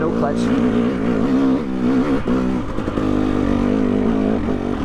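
Off-road vehicle crawling up a rocky hill in second gear with no clutch; a loud, steady low engine drone with slight rises and dips in revs, close up throughout.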